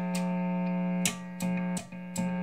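A steady electrical hum from a Carvin DC127C guitar's single-coil pickup, with a strong low buzz and bright harmonics, broken by a few short clicks and crackles.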